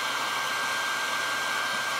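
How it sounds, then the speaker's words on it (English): A hair dryer on its low setting hums steadily with an even, airy whir and a thin high whine, running unchanged from start to finish. "now I'm going to take my hair dryer and I'm just gonna put it on low"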